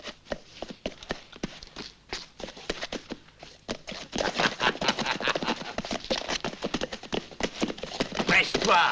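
Horses move off in a Western setting, their hooves clip-clopping in a quick, irregular rhythm that starts sparse and grows denser and louder as more animals join in.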